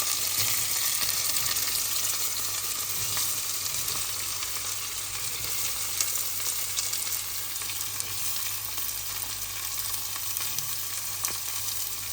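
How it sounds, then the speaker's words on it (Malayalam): Sliced onions sauté in a pan until browned, making a steady, even sizzle close by with faint stirring underneath, and no talking. "സവോള നമുക്കിട്ട് ഒരു ബ്രൗൺ ഷെയ്ഡ് ആവുന്നവരെ വാട്ടിയെടുക്കാം"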